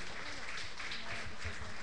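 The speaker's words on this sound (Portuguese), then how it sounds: "Pode salvar o Senhor Jesus aí com as palmas bem fortes." Church congregation clapping hands together, a dense steady patter of applause filling the room with a voice faintly mixed in.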